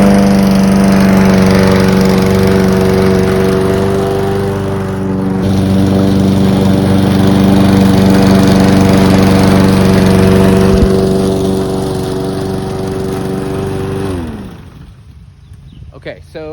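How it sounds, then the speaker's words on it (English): A lawn mower engine runs as a loud, steady, droning hum with a strong low tone for most of the stretch, then winds down and cuts out near the end, leaving only faint background noise. "Let's go ahead and fire up the mower."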